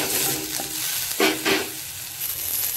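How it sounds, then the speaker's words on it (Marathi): Tomato roasting in a pan for shev bhaji masala, a steady close sizzle with a couple of brief scraping stir sounds, no voices. "आता आपली टोमॅटो पण छान भाजून झालेलं आहे."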